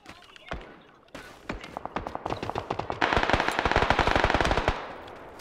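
Rapid bursts of automatic gunfire from a shooting video game, sharp repeated cracks that start sparse and build into a dense, loud volley before cutting off, with no talk over them.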